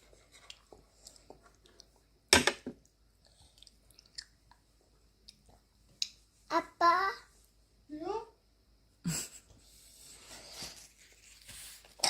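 A child eats seaweed and potato porridge, with soft close chewing and mouth sounds between brief bursts of a voice and babbling, in a quiet room.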